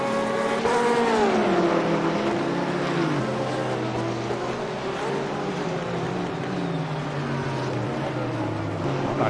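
BMW and Porsche GT3 race cars in a sim racing game at Misano roar close together, their engines rising and then falling through gear changes in a loud, continuous stretch with no talk.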